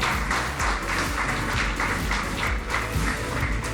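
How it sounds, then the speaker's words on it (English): A loud, sustained round of audience applause for Her Highness at a business awards ceremony in Mysuru, dense clapping with rhythmic surges and faint voices underneath. "Can you have a bigger round of applause, please?"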